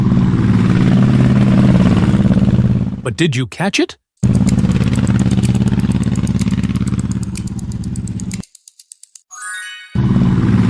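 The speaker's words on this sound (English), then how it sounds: "It was a motorbike engine." A motorbike engine speeds by with a sustained, buzzing drone that breaks off briefly and then returns, ending abruptly. A voice speaks over the end of the sound.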